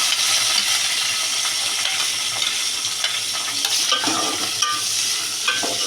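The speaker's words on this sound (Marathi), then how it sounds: "ते तेलात आता चांगला फ्राय करून घ्यायचं आहे." Finely chopped onion frying in oil for chicken dum biryani, a bright continuous hiss and crackle up close, with occasional spoon clinks and stirring scrapes throughout.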